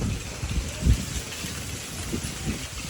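Steady rain falls outdoors near a parked car, a broad continuous hiss with a few heavier low patters and bumps, moderately loud and constant throughout with no one talking.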